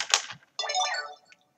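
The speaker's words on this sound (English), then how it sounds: "And I'm getting a text message." A phone's text message notification tone plays twice: a short bright chime, then a longer warbling melodic tone, close and clear with no talk over it.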